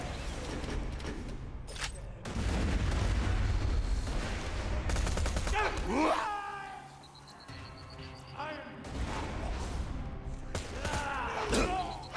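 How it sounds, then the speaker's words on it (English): Repeated blasts and gunfire-like bursts fill a room in the video game Borderlands 2, loud and dense for most of the span with brief lulls, while a voice talks over the chaos. "That room's gonna be exploding for a little bit."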